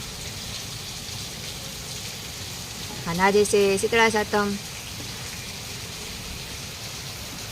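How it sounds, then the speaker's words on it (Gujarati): Heavy rain falls steadily in a broad, even hiss that runs throughout, with someone speaking briefly over it partway through. "તમે જોઈ જ શકો છો વરસાદ અત્યારમાં કેટલો આવે છે"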